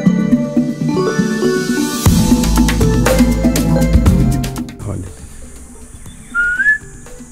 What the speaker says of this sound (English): So this bird is actually communicating with me. He's replying to my calls.